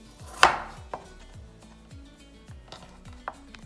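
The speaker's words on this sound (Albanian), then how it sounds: "Tani do prejmë edhe pataten, pra, në dimension me gjerësi siç e kemi prerë kungullin dhe patlıgjanin e zi." A knife chops potatoes on a cutting board while a meatball and eggplant dish is prepared, with one sharp loud chop followed by several lighter, irregular cuts over soft background music.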